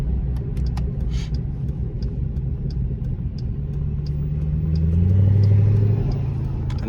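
SRT car engine accelerating, heard through an open window from inside the car: a steady low rumble that swells into a louder rising drone near the end, with no talking.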